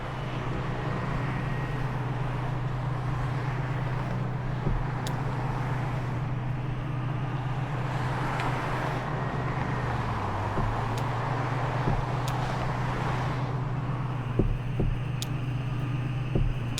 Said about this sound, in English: I love that you can hear the other cars on the highway.